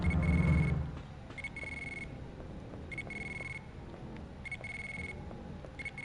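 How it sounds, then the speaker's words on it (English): Repeated electronic beeping from a pager in the Dino Crisis survival horror game, sounding in short bursts with gaps over a low ambient rumble, moderately loud and steady. "You have stopped the beeping of the pager."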